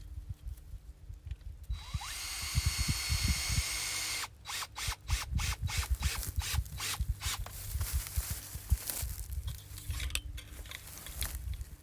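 Power drill fitted with a 5/16 bit boring into a post for a soil probe install, a high whine from about two seconds, then a long run of rhythmic grinding bursts, close and steady, with no voices.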